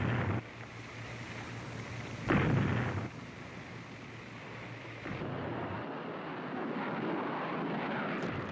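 Aircraft and warships attacking transportation targets in a bombing raid: a dense, continuous roar of engines and rumbling with a heavier burst near the start, loud and sustained throughout, no voices.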